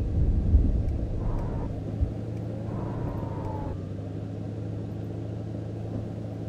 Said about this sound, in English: We're using the brake saver. That's that whining sound that sounds a bit like a bus transmission.